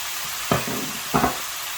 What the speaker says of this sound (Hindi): अब इसमें ऐड कर दूंगी मैं ये चिकन जो हमने फ्राई करके रखा था।